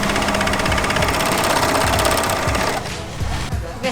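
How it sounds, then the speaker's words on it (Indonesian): A Singer 14SH754 overlock machine runs a four-thread stitch with a steady, loud, fast mechanical chatter and whir that drops off slightly near the end. "kita tadi coba obras 4 benang"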